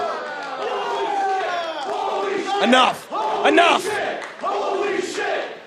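Wrestling crowd chants in rhythmic bursts at an Absolute Intense Wrestling event, loud and close with several distinct shouted beats, and someone speaks briefly over it.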